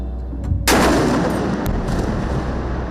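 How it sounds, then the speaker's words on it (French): A powerful explosion in Gaza strikes and shakes a building, a sudden loud blast followed by a long rumbling roar and debris noise that lingers for several seconds. "À 11h55, une première explosion secoue l'immeuble."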